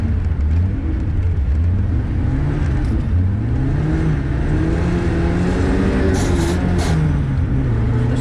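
A drifting car's engine revs loudly up and down with rising and falling pitch while the gearbox grinds, heard close and continuous.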